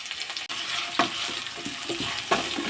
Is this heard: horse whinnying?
no